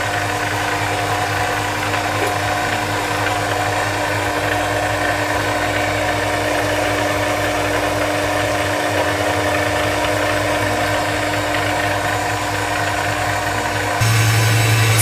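Kitchen robot motor kneading oatmeal and honey bread dough, a steady mid-pitched machine hum that runs without a break and grows slightly louder near the end, with no one talking.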